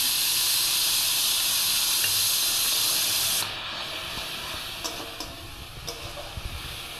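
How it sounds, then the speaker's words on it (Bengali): Ginger and garlic paste fries with tomato in a hot pan, giving a loud, close hiss that drops to a quieter sizzle halfway through, with a few soft stirring clicks and no talking. "দিয়ে ভালো করে একটু ভাজবো।"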